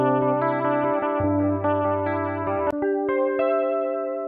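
A clean electric guitar rings out sustained chords through a TRIAL Prime Chorus analog pedal, a lush, shimmering JC120-style chorus, bright and close, with no talking.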